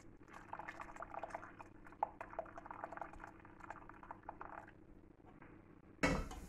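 Whey and cheese curds poured from a pot, a steady close liquid splash and trickle running for several seconds, then a sudden louder clatter near the end.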